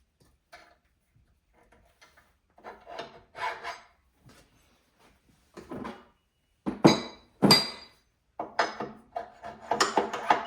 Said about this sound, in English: So I'll just be going through and sanding.